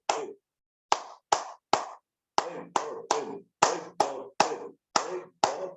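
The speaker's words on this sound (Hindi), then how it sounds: "चलिए ताली बजाते हैं, उत्सव बनाते हैं जीवन का रिदम के साथ।" Sharp, separate hand claps in a yoga session, thirteen in all, with a pause after the first and then a steady, evenly spaced rhythm, loud and close with nothing else heard.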